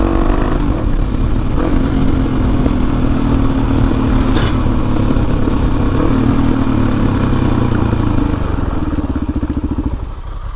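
Motorcycle ridden on a dirt track on slick tyres, its engine droning loud and steady close by for the whole stretch, the note shifting slightly as it revs and eases off toward the end.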